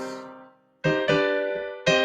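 A few minor piano chords ring out in succession, each struck firmly and left to sustain and fade.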